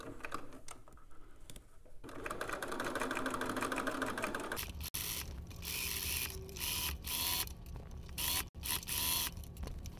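A sewing machine stitches down elastic on a garment's inner leg, its whirring broken by stops, clicks and rattling handling noises close by.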